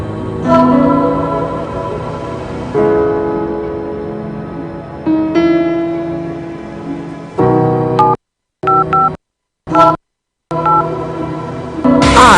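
Telephone keypad dialing tones in a radio advertisement: a few loud, clipped beeps separated by silent gaps follow steady tonal music.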